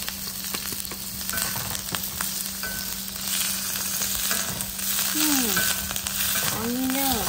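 Galangal root shoots frying in a hot pan with steady sizzling throughout, joined near the end by a couple of brief rising squeaky tones, with no talking.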